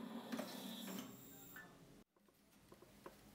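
A bandsaw blade tooth setting machine runs with a steady mechanical ticking and whir, then cuts out abruptly partway through, leaving faint clicks in a quieter room.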